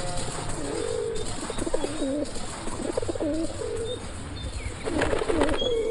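Pigeons coo in repeated soft, throaty phrases over a constant hum of background noise, with a louder burst of cooing near the end.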